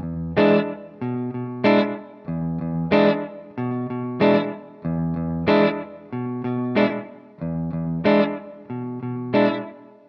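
Guitar plays a backbeat part, alternating bass notes with muted, distorted chord strums on the backbeat, steady and repeating about eight times, loud and close with no voice.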